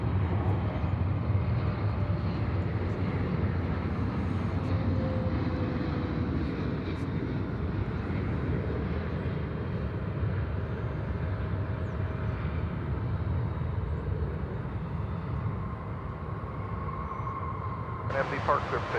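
A passenger jet diverted from Los Angeles taxis or moves at DFW Airport, a continuous low engine roar and rumble heard from a distance, steady over the whole stretch.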